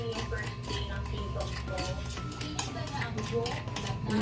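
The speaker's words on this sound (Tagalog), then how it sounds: "And now we will going to mix everything up 4 to 5 minutes." A dalgona coffee mixture whisked in a bowl, giving a steady, continuous scraping and clinking of utensil against the bowl throughout, loud and close with no pauses.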